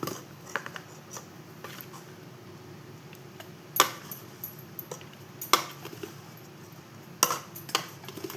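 Gram flour (besan) being spooned into a bowl over a quiet kitchen background, with a few sharp spoon clinks against the bowl and soft scattered taps and scrapes between them.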